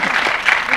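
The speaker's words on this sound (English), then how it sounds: "give him a round of applause" Applause from an audience at a film festival forum, a brief, dense wash of clapping heard close and fairly loud, cut off after under a second.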